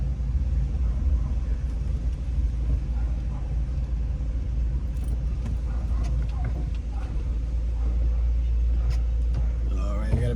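Continuous road traffic rumble on a residential city street lined with brick homes, a steady low engine drone with vehicles passing nearby throughout, fairly loud and constant.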